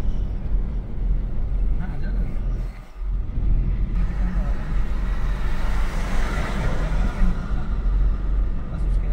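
A VW Polo engine held at full throttle drones and vibrates steadily throughout, a loud, continuous low rumble with a brief dip in the middle.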